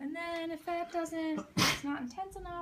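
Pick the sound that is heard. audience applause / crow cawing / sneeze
sneeze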